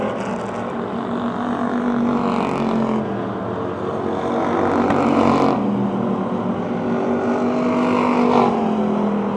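Race cars in a MAARA 100 feature at Motordrome Speedway in 2007 roar around the track in a steady, loud engine drone, with pitch rising and falling as cars pass, and no voices.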